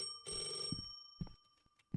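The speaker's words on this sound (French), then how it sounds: "Ah, c'est le téléphone, j'avais pas compris." A telephone rings in the Roblox game Mulberry County, giving a bright electronic trill that sounds clearly, then cuts off. Faint soft knocks follow in an otherwise quiet scene.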